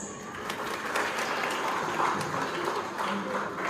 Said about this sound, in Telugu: మీ అందరికీ క్లాప్స్.